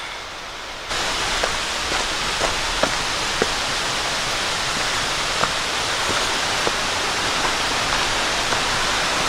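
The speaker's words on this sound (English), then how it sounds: "it's a beautiful stream next to us too" A mountain stream rushes steadily beside the Hunt Trail on Mt Katahdin in Maine: a loud, continuous broadband wash of flowing water, with a few faint clicks scattered through it.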